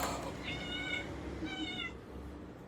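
A pet cat called Miss Kitty meows twice at close range, each meow clear and drawn out, separated by about half a second over a steady low background hum.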